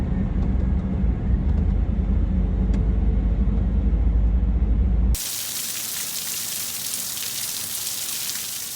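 Heavy rain falls over a flooded South Jersey street, first as a dense low rumble of water and traffic-like roar, then abruptly shifting to a steady bright hiss of downpour.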